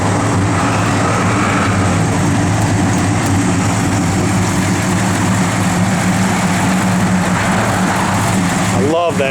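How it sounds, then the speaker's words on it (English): Hemi V8 in a 1970 Plymouth Road Runner idling, a loud, steady low rumble throughout, with a brief sharp noise near the end. "Gotta love that Hemi engine."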